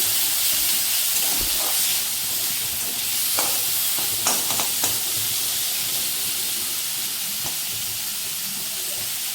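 Garlic paste frying in mustard oil in a wok over low heat gives a steady, loud hiss and sizzle throughout, with occasional brief stirring scrapes and pops.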